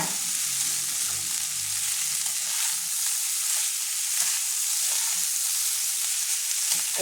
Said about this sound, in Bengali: পেঁয়াজটা এরকম হালকা ভেজে নিয়েছি।